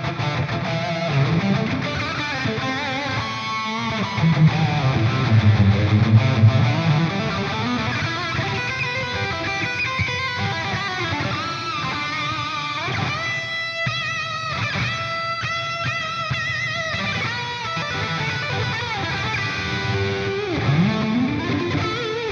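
Electric guitar played through a Walrus Audio pedal chain with heavy, long reverb, chords and single notes ringing out with thick washy tails and a swell in the low end midway, steady and fairly loud with no talking.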